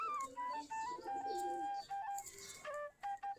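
Local Giribaz pigeons coo and call softly while pecking at mixed paddy and wheat grain, with short, faint, repeated calls in an uneven rhythm and nobody talking.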